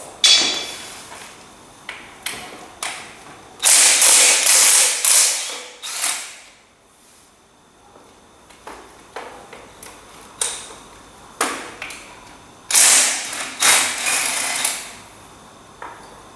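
A ratchet loosens bolts on a Massey Ferguson TEA20 tractor, giving close, loud bursts of rapid clicking separated by pauses, with a few metallic creaks and taps between them.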